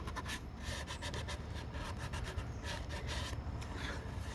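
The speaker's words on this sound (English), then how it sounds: "I don't want to sand much. And my friend Phyllis, she gave me this sandpaper." Sandpaper rubs over a wood relief carving outdoors in the mountains, a continuous close, gritty rasp in quick back-and-forth strokes.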